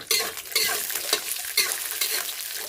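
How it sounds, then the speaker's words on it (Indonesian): Shells frying in a pan for Indonesian spicy chicken, with steady loud crackling sizzle and repeated scraping stirs throughout. "Goreng dulu cangkang."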